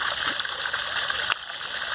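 Test water drains from the dump valve of a 2019 Crossroads Zinger Lite ZR280BH RV tank as a steady, close splashing gush, with a brief knock partway through.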